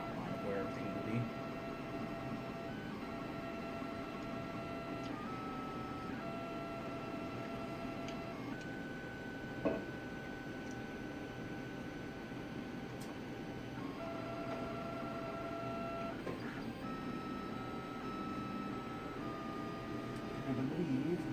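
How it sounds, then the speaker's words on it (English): A 3D printer lays down a brim, its stepper motors whining in shifting steady tones with a low mechanical hum, fairly quiet and continuous throughout. "Right now it's only printing the brim"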